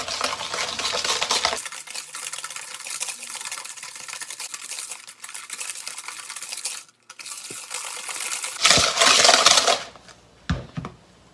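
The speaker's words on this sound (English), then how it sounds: "And mix well." Cookie dough with hojicha being mixed in a bowl, a close, continuous scraping and stirring against the bowl that pauses briefly, then returns louder near the end with a few sharp clinks.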